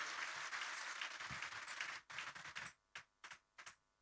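Audience applause after a performance at a Sahaja Yoga cultural program, a dense burst of clapping that thins out into a few scattered, separate claps near the end.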